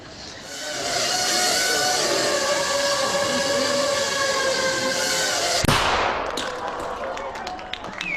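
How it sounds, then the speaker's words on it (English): A small shaped explosive charge of about 3 grams detonates as one sharp, loud bang near the end, after several seconds of steady broadband rushing noise, followed by quieter crackling. "That little bang is enough to penetrate the skull and destroy the contents."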